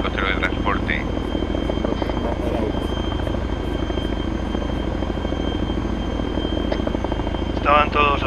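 A helicopter engine in the military game ArmA 3 gives a loud, continuous rotor drone throughout, with a few short background voices under it.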